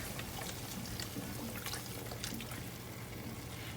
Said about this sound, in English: So we're going to add more broth.